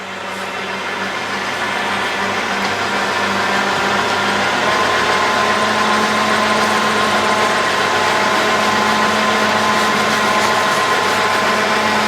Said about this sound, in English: so we're spinning up in the lathe